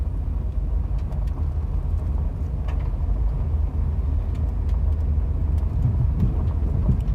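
A car rolling along a dirt mountain road that is impassable when wet: a steady low engine and tyre rumble from inside the vehicle, with faint scattered knocks and rattles from the rough surface throughout.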